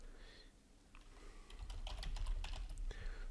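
Quick typing on a computer keyboard during software setup, a brief faint burst of light key clicks against soft background hum.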